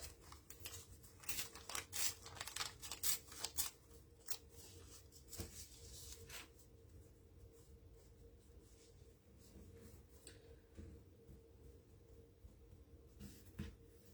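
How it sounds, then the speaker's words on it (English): Paper being torn by hand for a junk journal: a cluster of quick ripping and crinkling bursts at first, then quieter intermittent rustles and short tears, close and faint. "And then I think I might just tear this."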